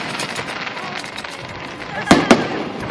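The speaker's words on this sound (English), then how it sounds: "Now we got the fireworks." Fireworks burst after an Oakland A's baseball game against the Blue Jays, with crowd chatter and noise running throughout and two sharp, loud booms close together near the end.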